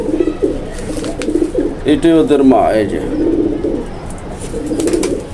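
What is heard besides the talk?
pigeons cooing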